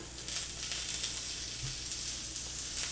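Hash browns and sausage sizzling in a frying pan at breakfast, a steady bright hiss of hot fat that holds evenly throughout with a faint low bump midway.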